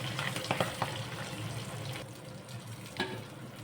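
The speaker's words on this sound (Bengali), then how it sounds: "এবার কড়াইয়ে সর্ষের তেল গরম করে মাছগুলো হালকা করে ভেজে নেব।" Hilsa fish pieces frying in hot mustard oil in a wok give a steady, soft sizzle with a few sharper crackles and spatters, fairly close and without talk.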